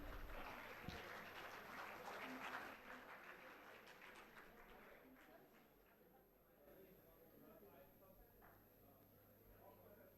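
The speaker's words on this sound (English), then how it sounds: "I think we can intensify the claps further" An audience at a conference inaugural ceremony applauds in a dense, steady patter that is fullest at the start and gradually thins and softens, with a murmur of voices underneath.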